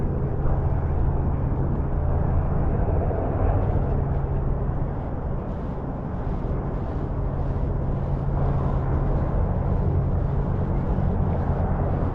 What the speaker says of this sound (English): I don't know if you can see the plane coming in.